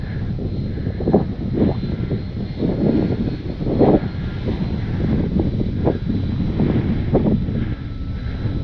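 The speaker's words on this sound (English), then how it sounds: "Very, very windy." Strong wind buffets the microphone in low, rumbling gusts that swell and fade, with a faint engine drone underneath, outdoors while flying a radio-controlled model plane.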